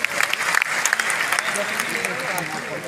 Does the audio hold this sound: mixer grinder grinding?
no